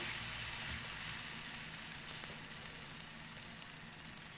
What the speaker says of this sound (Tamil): இப்போ தவாவில் போட்டு சுட்டுக்கலாம் இப்போது தவா சூடாயிடுச்சு தவாவில் போட்டுக்கலாம்